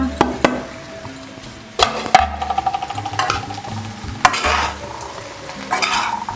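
A spoon stirs navadhaniya sundal, a mixed-grain dish, with masala, chilli, fennel and peanuts in a pan: close, repeated scraping and knocking strokes over a soft sizzle, with no talk.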